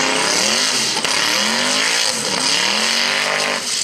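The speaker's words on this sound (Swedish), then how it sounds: "Det är ingen dålig burnout." A drag racing car doing a burnout at a drag strip, loud continuous screaming engine and tire squeal with rising and falling revs, close and dominant throughout.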